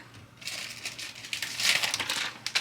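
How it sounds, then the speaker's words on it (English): A large plastic bag crinkles and rustles up close as a Care Bear plush is packed into it for shipping, giving a continuous dry crackling that swells louder halfway through. "I'm going to see if I can put her in a plastic bag."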